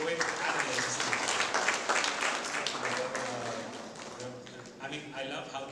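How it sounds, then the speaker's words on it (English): Applause from a literary festival audience fills the space, a dense steady wash of clapping heard up close, with talk and voices mixed in throughout and the clapping thinning slightly toward the end. "So a big round of applause to that"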